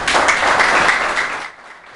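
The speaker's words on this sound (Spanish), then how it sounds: "hágase un aplauso para Eudis" Brief burst of audience applause at a book launch for author Eudis Moreta, dense clapping that holds steady before fading out near the end.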